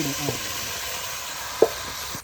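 Chicken dropped into a large pot of cooked-down masala for biriyani sizzles with a steady, close hiss, one sharp clink of a utensil standing out near the end, with no voices.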